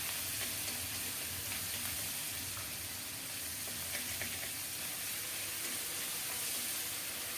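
Cumin and ginger paste sizzling steadily in hot oil in a pan, a continuous close frying hiss with faint crackles and no talking.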